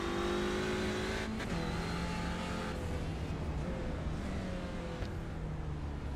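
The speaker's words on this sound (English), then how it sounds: "Sorry, I can't get enough of the sound of this Audi." Audi touring car engine in the iRacing sim, racing at Tsukuba, heard as a steady loud drone with pitch shifts between gears as the car accelerates and changes speed, alone without talk.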